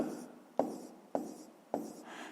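Pen strokes scratch across paper during a handwritten maths exercise, three distinct rhythmic strokes with soft rubbing between them, close up and quiet.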